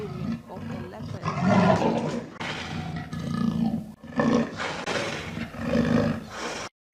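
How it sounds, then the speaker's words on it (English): A black panther, the dark leopard variant, lets out a series of deep, rasping roars in several loud bursts separated by short gaps, close and forceful, ending abruptly. "Black panther is the melanistic-color variant of the leopard."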